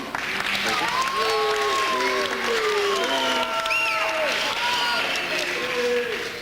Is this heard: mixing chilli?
no